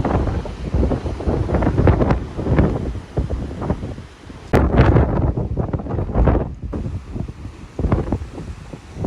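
Strong coastal gusts of wind buffet the microphone in loud, rumbling bursts that rise and fall, with no voices heard.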